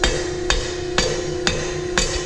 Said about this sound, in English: Might be able to hit this with a hammer, able to square this up.